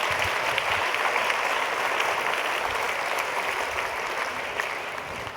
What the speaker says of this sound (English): Round of applause for Irma